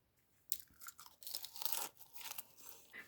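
Crisp, crunchy bites into warm fried verhuny pastry with thick, very crunchy dough, close and quiet, a sharp crack followed by several seconds of crunching and chewing.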